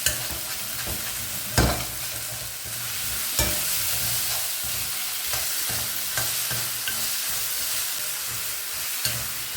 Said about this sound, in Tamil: தக்காளி நல்லா வதங்கி நம்ம கரண்டிக்கே ஒரு சாஃப்டாக ஆகிறது தெரிய ஆரம்பிக்குது